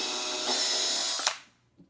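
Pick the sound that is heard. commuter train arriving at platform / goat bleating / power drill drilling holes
power drill drilling holes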